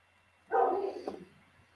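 A single faint dog bark comes from some distance and trails off briefly against a quiet background.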